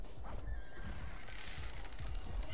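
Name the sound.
horse neighing and hooves in video game War of the Roses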